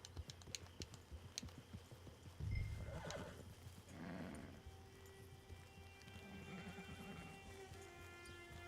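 Horse whinnies and neighs loudly in Red Dead Redemption 2, with clip-clop hooves and tack sounds at a steady pace, the neigh rising clearly above a busy game ambience near the camp.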